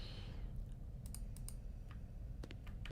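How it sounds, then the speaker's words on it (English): Keys on a clacky computer keyboard clatter in quick, uneven bursts of sharp clicks, fairly close, over a steady background hum. "I want a clacky keyboard like this."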